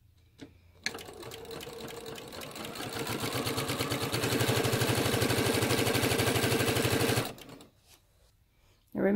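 A sewing machine runs steadily for about six seconds, stitching right-sides-together fabric for half square triangles in a Goose in a Pond quilt block, with a fast even needle rhythm, close and fairly loud, starting and stopping abruptly.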